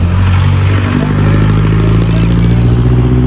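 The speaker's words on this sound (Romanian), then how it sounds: "s-a pornit golful ăsta sincro, un motor pe benzină, pare mai zgomotos de aia." A Volkswagen Golf Syncro petrol engine runs loud and close, a steady low rumble with rattling mechanical clatter.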